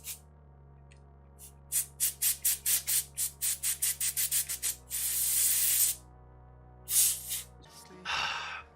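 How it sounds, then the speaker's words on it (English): Lubricant sprayed onto a game controller joystick: a run of short rhythmic squirts or pumps, then a longer hissing spray burst and a final brief spray, all close and with no talking. "One last good spray for good measure"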